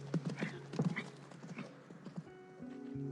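Horse hooves clip-clop in a quick, uneven rhythm, close and fairly loud, and the steps fade toward the end as a low tone comes in.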